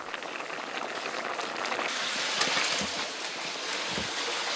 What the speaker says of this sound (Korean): 알콩달콩 사는 동생 부부가 보글보글 끓여낸 수제비 매운탕